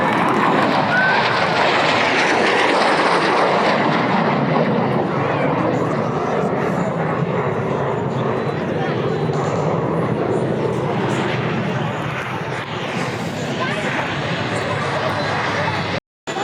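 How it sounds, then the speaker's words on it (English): A C-130 Hercules propeller aircraft roars overhead while landing at an air show, its engine drone loud and sustained, gradually easing as it passes, with wind buffeting the microphone. "we'll be able to see the C-130 Hercules land"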